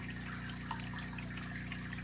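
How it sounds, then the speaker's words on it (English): Water splashes steadily inside a 100-gallon oyster reef biotope aquarium, a continuous close wash of liquid layered over a low pump hum with a brief bright blip near the middle. "it's splashing coming up from the water coming through here"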